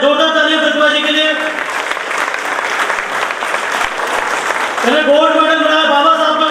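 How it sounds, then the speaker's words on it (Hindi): An audience at an Ambedkar Jayanti celebration breaks into loud, dense applause for a quiz winner, a sustained wash of clapping filling the middle, with someone speaking before and after. "जोरदार तालियां प्रतिभा जी के लिए।"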